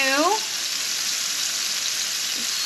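Fish fillets sizzle steadily in a hot pan on their second side after a squeeze of lemon, a constant bright hiss throughout with a brief rising squeak near the start.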